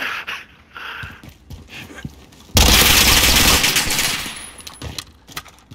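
In a shooter video game, a dense burst of automatic gunfire erupts suddenly and loud, rattling for about two seconds before tapering off, with quieter scattered shots and clicks around it.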